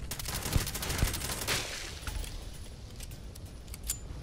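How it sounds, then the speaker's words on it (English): Pistol fire in the sci-fi video game Starfield: a few sharp shots crack out early, then fade into quieter game ambience with scattered light clicks. "that pistol's interesting. I'm gonna need a lot more ammunition for it"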